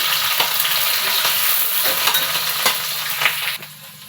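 Garlic and green chillies fry in hot oil with dried red chillies for Bengali dal makha, a steady close sizzle broken by several scraping stirs of the pan, no talk.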